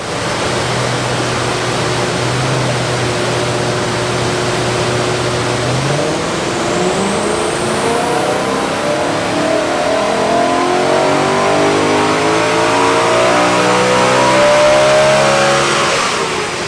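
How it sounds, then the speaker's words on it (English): A BMW E92 M3 on a dyno idles briefly, then accelerates through a long, loud climbing rev under full load, the engine note rising steadily for over ten seconds with strong roaring intake noise, no talking. "So we've just dynoed the car."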